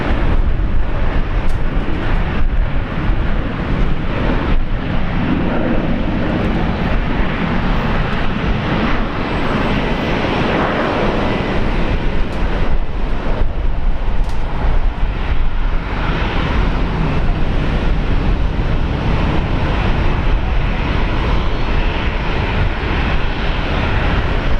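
A Virgin Australia airliner arriving at Brisbane Airport, a loud, sustained roar of jet engines with heavy wind rumble washing over the whole stretch, no voices.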